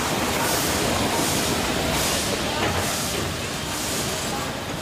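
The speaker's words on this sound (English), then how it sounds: "Nothing evokes the romance of the railway like a steam engine." A steam locomotive arrives at Pondicherry station in India, giving a loud, continuous hiss of steam over a low rolling rumble that barely changes throughout.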